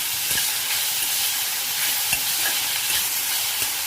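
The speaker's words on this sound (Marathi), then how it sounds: "मस्त परतून होते भाजी।" Beet leaves stir-fried in a pan for an Indian sabzi, giving a loud, dense, continuous sizzle and hiss up close, with occasional light scrapes and taps of a spatula.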